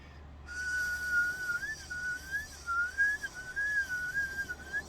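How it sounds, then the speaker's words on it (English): Palate whistle held by one person, a clear steady tone that wavers in pitch as the back of the tongue moves up and down for vibrato, sustained alone over a soft background hiss. "the back of the tongue goes up and down really fast, changing the pitch. That's the vibrato effect"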